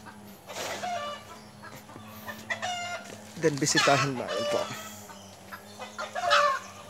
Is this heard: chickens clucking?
yes